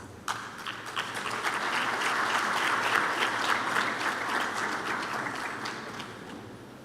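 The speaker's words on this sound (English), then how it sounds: "Can we clap hands for her?" At a science congress on commercial and rural development, an audience claps for a keynote speaker as she is called up; the applause starts abruptly, swells into a steady, fairly close roar, then tapers slightly.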